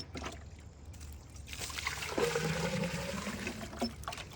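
Water swished and rinsed around a container to flush out orange iron particulates, a steady sloshing and trickling that swells midway and keeps churning close by, with no talking.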